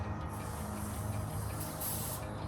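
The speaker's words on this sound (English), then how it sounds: "Spray it." A spray can fires one continuous hissing burst at a rusty vehicle frame undercarriage bolt after heating, loud and close, with nobody speaking.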